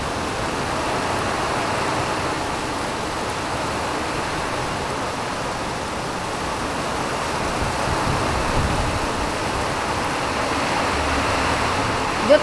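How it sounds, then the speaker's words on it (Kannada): Heavy first rain of the season in Siddapura pours down in a steady, dense roar, with strong gusting wind and rushing runoff water blending into an unbroken wash of noise throughout. "ಮೊದಲನೆಯ ಮಳೆ. ಸಿಕ್ಕಾಪಟ್ಟೆ ಗಾಳಿ ಬೀಸ್ತಾ ಇದೆ"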